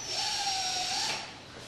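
A power drill drives a screw into the wire cage of a chicken coop run, making one short, steady, fairly faint whirring buzz that eases off at the end.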